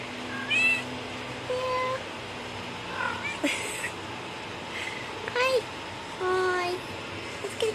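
A cat meows several times in short, clear calls spread through the clip, with a person talking softly in between and a faint steady background hum.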